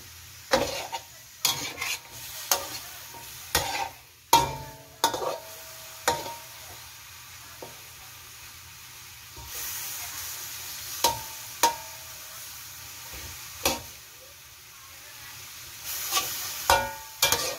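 Intermittent scraping and clinks of a utensil stirring chicken wings with fish sauce in a dry pan over a low, steady sizzle, with sharp knocks every second or so.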